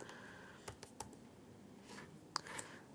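Several clicks and taps of typing on a computer keyboard, scattered unevenly over a few seconds and fairly close but quiet, with no talk.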